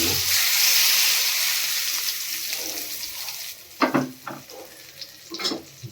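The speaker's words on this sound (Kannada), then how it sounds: "ಒಗ್ಗರಣೆ ಹಾಕ್ಕೊಳ್ಳೋಣ." Spices tempering in hot oil for a citron pickle hiss loudly in a continuous close sizzle, then quiet down as a few sharp stirring clatters take over.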